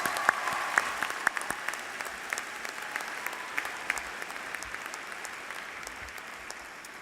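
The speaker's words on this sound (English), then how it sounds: "So let's give all these folks a big round of applause." A commencement audience at Auburn University claps in a large, reverberant venue; a sustained wash of applause with sharp individual claps standing out, fading slowly over several seconds.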